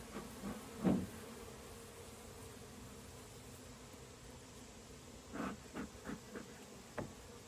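Honeybees hum steadily around an open hive during an inspection, a faint continuous buzz with a few brief louder rustles and knocks close by.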